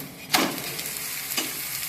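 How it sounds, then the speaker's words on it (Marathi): A methi paratha frying in oil on a pan, a soft continuous sizzle with two brief scraping or turning sounds, no talk. "तेल लावून घेऊया आपण आणि पलटी करूया।"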